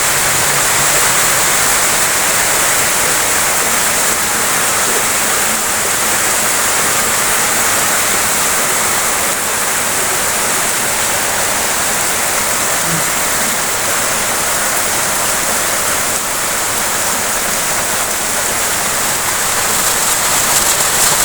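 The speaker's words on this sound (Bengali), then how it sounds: "বৃষ্টি হইতেছে।" Heavy rain pours steadily onto a village house yard and veranda, a dense, loud, unbroken roar of falling water, close by and with no voices over it.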